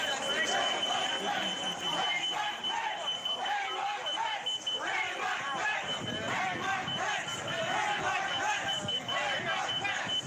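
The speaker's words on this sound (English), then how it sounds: "You can hear the security alarm from the door in the background" A security door alarm sounds steadily in the background during a riot, a sustained high tone running under a loud shouting mob and crowd noise.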